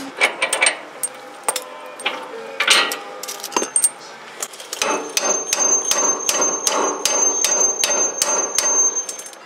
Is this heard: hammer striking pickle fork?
yes